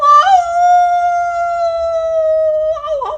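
A human voice imitates a wolf howling: one long, sustained, tonal howl that rises at the start, holds steady, then bends and breaks off at the end, close and loud.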